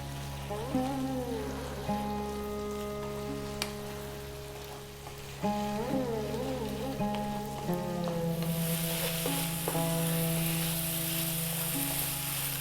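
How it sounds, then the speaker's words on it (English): Lamb bhuna curry sizzles hard in an uncovered pan over high heat, a dense continuous crackle with occasional stirring scrapes, close and loud throughout, over a steady low hum, with the frying growing brighter and more intense toward the end. "We're going to keep the lid off and we're going to go for about another 5 or 6 minutes stirring fairly often."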